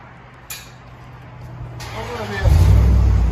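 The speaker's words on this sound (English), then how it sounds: "So that's with the resonator on." A Dodge Dakota 4.7L V8 with the exhaust resonator fitted sits quietly at first, then its engine revs up and settles into a loud, deep exhaust roar near the end, with a voice talking over it.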